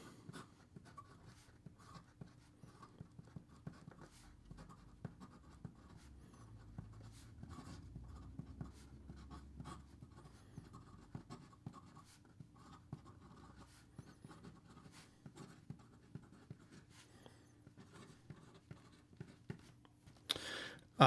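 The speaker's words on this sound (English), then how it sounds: "And here we go with the rest of the writing sample." Conway Stewart Alan Turing fountain pen with an 18 karat gold nib writing on paper, a close, quiet, continuous scratchy stroke sound with small taps and pauses, heard alone.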